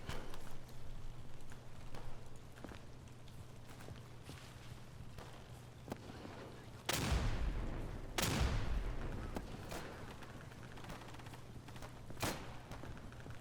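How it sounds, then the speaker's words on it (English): Lewis gun fire in the World War shooter game Day of Infamy, two loud bursts of automatic fire around the middle, with scattered distant shots and battlefield noise throughout. "Ooh, a Lewis gun. Let's try this thing out."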